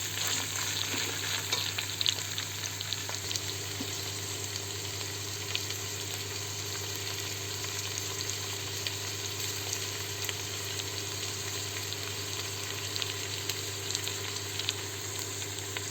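Toasted rice and peas sizzle steadily in a hot pan while being stirred, a continuous close crackling hiss over a low constant hum, with no voices.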